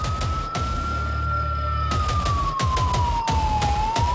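A police car siren wails in a slow rising and falling tone over loud road and engine rumble, broken by sharp thumps and bursts of noise.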